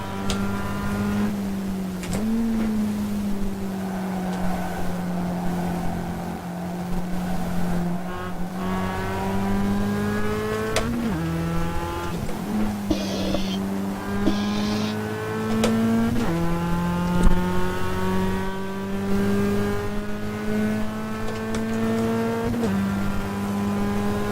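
A Chevrolet Camaro race car at Spa, its engine droning loud and close, with the pitch climbing steadily through the gears and dipping at each shift.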